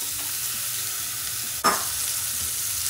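Sweet pumpkin drops into hot oil tempered with black cumin seeds and dried chili, giving a sudden sizzling burst over a steady background of frying hiss, with no talking.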